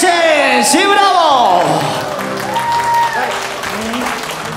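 Wedding guests clapping together at a Polish wedding party, a dense, loud burst of applause mixed with whoops and shouting voices, fading slightly after the first couple of seconds.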